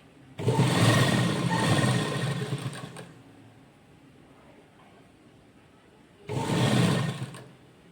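A sewing machine stitching an invisible zipper onto fabric runs in two bursts, a steady whirring run of about two and a half seconds, a pause, then a shorter run, close and clear.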